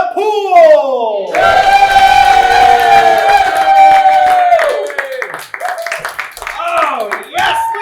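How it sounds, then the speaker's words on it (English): A theater crowd at the Bunker Theater greets the improv group The Pool with cheering, whooping and clapping, loud and close, with shrill voices rising over the applause. "So please give a warm round of applause to The Pool!"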